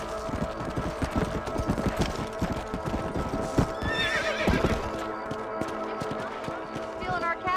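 Horse hooves clip-clop steadily in Red Dead Redemption, a rapid rhythmic trot close by with a horse whinnying midway, over a dense game ambience with voices talking.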